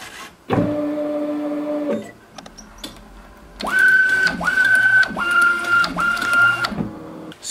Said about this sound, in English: I'm gonna probably go ahead and turn on the printer and get things going